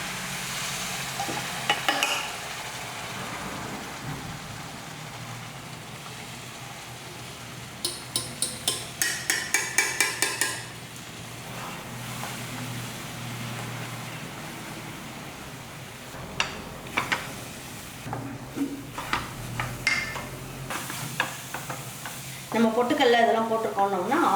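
Hot jaggery syrup poured into rice flour dough for kolukattai and stirred: sustained hissing sizzle broken by quick rhythmic clinks and scrapes of a utensil against the vessel, ending in a louder burst of stirring.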